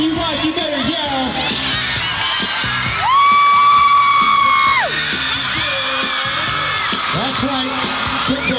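Near-continuous loud whooping, cheering and yelling from a crowd at a cheerleading event featuring cheer dads, with a long sustained shriek in the middle and voices shouting throughout.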